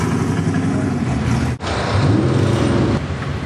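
Loud, close roar of a Camaro drag racing car engine at an NHRA Division 6 event at Portland International Raceway, dense and continuous with a brief dip midway.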